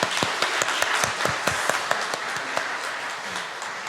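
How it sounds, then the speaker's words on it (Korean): Scattered applause from a church congregation honoring its teachers during a Sunday service, with sharp individual claps over a diffuse wash of hands that gradually thins out. "우리 선생님들 위해서 함께 박수 한번 하도록 하겠습니다."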